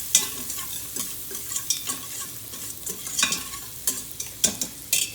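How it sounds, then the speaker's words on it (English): Onions with dried thyme and herbs sizzling in a pot, a steady hiss punctuated by repeated scraping stirs of a spoon, close by and with no one talking. "We're just going to let our herbs cook just for a second."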